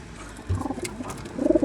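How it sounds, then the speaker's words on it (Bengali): Old-blood black Khulna high-flyer pigeons, male and female, coo close by in a loft with a few low throaty pulses, then a louder rolling coo at the end. "এই যে খুলনার পুরাতন কালো কবুতর, এই যে নর, এই যে মাদি"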